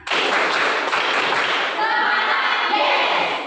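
A group of schoolchildren in a classroom claps hands together in a dense, lively burst that carries on for a few seconds, with voices mixed in among the clapping.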